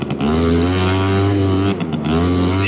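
A small two-stroke moped engine revs hard and close, holding a loud buzzing drone that briefly dips and then climbs again, no talk over it.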